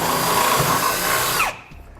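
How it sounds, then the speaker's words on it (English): A power drill with a half-inch bit bores up through the underside of a 2017 GMC Sierra truck bed, a loud steady whining grind that winds down and stops near the end. "I'm going to take a 1/2 inch drill bit and I'm going to drill up through the bed"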